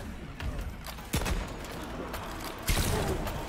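Heavy Barrett .50 caliber sniper rifle fire in a video game: a few loud, sharp reports spaced over a few seconds, with scattered mechanical clatter and background battle noise between them.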